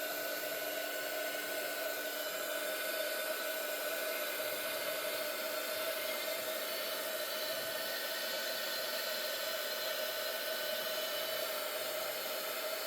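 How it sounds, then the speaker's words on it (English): A heat gun blows hot air onto resin being cast into dominoes, giving a steady, even whoosh with a faint constant whine and no pauses. "You just want to make sure you don't put your heat gun in the resin."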